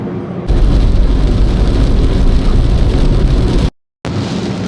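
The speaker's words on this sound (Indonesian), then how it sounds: "Ya hujan deras ya" Heavy rain drums loudly and constantly on a Daihatsu Ayla during a road trip near Serang, Banten, a dense roaring wash that drops out briefly near the end before returning.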